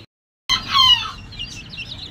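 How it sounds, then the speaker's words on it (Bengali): A long-legged fancy chicken gives a burst of clucking calls after a moment of silence, then trails off into softer clucks and murmurs, close and clear. "এটা হচ্ছে যে পা লম্বাওয়ালা মুরগি"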